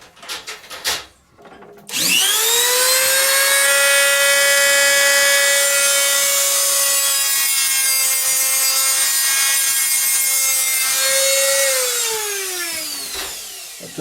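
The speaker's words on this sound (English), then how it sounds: "I took a little bit of Dremel just to take the burrs off the end of this" A Dremel rotary tool deburring the end of a metal part from a Zaima Celeste butane lighter whines up to a steady high pitch, holds for about ten seconds close by, then winds down, with no talking.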